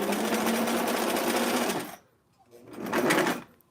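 Sewing machine running a line of small stitches on a pillbox hat, a steady mechanical whir for about two seconds, a brief pause, then another short burst of stitching.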